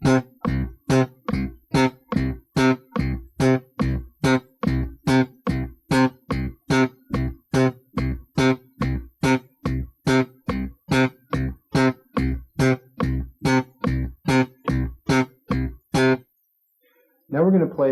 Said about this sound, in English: So playing that with the metronome, it should sound like this.